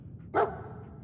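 A single short dog bark from the Fallout 4 companion dog, loud and close, over a low ambient game hum.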